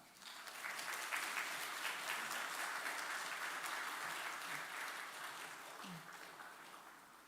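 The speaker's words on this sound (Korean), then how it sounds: "큰 격려의 박수 한번 부탁드립니다" A church congregation at a Sunday morning service in Ulsan claps in encouragement during a presentation, a broad, even wash of applause that swells quickly, holds steady, then slowly tapers, heard at a distance.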